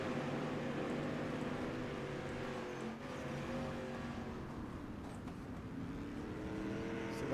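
Race car engines in a World of Thunder dirt street stock race at Kern Raceway drone steadily and fairly quietly, a continuous pack of engines holding pitch with slight shifts and no voices heard.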